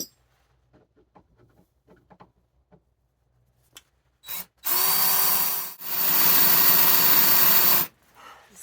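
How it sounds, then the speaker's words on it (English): After some light handling noises, a power drill starts with a brief burst, then runs loudly and steadily for several seconds drilling through metal round bar on an ATV, with a short pause midway. "drill through this"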